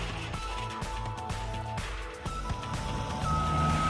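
A Bobcat spreads stone at a construction entrance, its repeated electronic reversing beeps sounding over a steady, loud diesel engine rumble with some scraping and clanking of stone.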